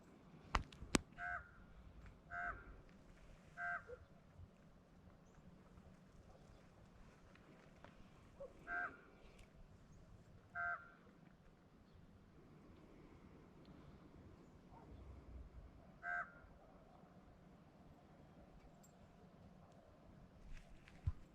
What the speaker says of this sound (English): Do you hear the bird in the background? That is a raven. That is not a natural raven call.